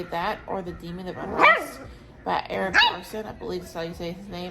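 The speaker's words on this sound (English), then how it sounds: "I'm sorry about the dog barking." A dog barks repeatedly indoors in sharp, close bursts, several quick barks in clusters, heard over and between a person talking steadily.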